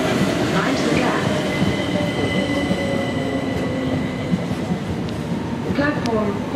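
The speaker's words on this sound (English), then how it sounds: "The train now approaching platform 13 is the 1538 Southern service to Southampton Central and Bognor Regis" A Southern train pulls into platform 13 at Clapham Junction, rumbling and clattering loudly with faint wheel squeal, while a station announcement plays over the noise.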